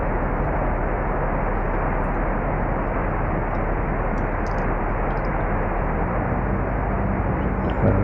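Steady loud broadband drone of a light aircraft cabin on approach with two stages of flaps lowered, slowing in a tight circuit, continuous engine and wind noise without a break.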